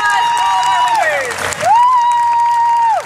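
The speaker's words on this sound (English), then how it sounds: "round of applause for all of our winners" Applause and cheering for cosplay contest winners at a Walker Stalker fan convention in Germany, with clapping under a long sustained whistle that dips and rises again, close and fairly loud.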